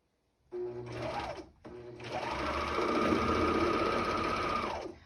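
A sewing machine stitches a waistband onto a pair of shorts, running in a short burst, pausing briefly, then humming and rattling steadily at close range for several seconds before stopping.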